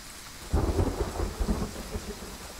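A thunderstorm in the hunting video game Way of the Hunter rolls with a deep rumble of thunder over steady rain, the thunder swelling loud and then fading back into the hiss of rainfall.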